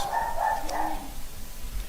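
A dog barks indoors a few times, somewhat faint and muffled against a steady background hum, with no talking over it.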